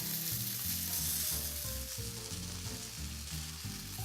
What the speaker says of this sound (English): So I'm just gonna take a couple cloves of garlic. I'm gonna drop them right in.